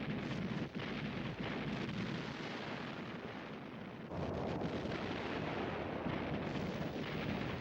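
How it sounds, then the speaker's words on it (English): A short but intense Allied artillery barrage before the 1945 Rhine crossing near Wesel, heard as a dense, continuous roar of rumbling blasts that steps up louder partway through and stays heavy to the end. "After a short but intense artillery barrage, the Allied amphibious crossings began."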